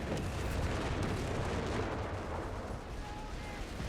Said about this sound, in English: There it goes, naval bombardment.